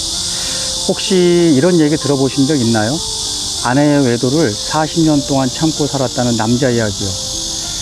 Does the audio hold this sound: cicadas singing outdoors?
yes